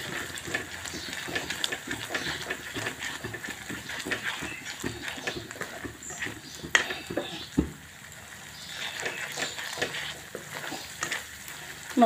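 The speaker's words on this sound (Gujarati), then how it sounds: "મસાલાને શેકી લેશું આપણે." Ground spices with salt, chaat masala and kitchen king masala roasting in a pan for a Hyderabadi paneer gravy, a continuous close sizzle broken by frequent light stirring scrapes and clinks against the pan.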